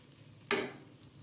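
A single quick scrape of a spatula through grated coconut roasting in a pan until golden brown, a short close rasp that fades within a second against a quiet background.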